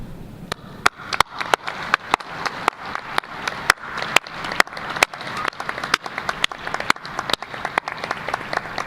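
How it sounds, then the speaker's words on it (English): A commencement audience at UT Martin applauds graduates' supporters with a steady round of sharp, distinct claps, lively and close, sustained throughout with no talking over it. "remain standing as we give a round of applause to these individuals who have supported you"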